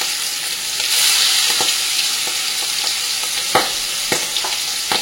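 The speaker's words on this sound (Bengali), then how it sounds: "এবার যে বোয়াল মাছগুলো মশলা দিয়ে মেখে রেখেছি, মশলা যতটা পেরেছি কিন্তু আমি কাচিয়ে নিয়ে এর মধ্যে দিয়ে দেবো" Spiced boal fish sizzling and frying in hot mustard oil, a steady close crackle with several sharp spitting pops toward the end, no voices.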